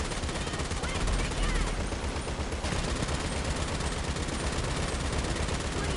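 An AA gun in GTA Online fires in a continuous, dense rattling stream of heavy shots that barely lets up, loud and close throughout, with voices talking underneath.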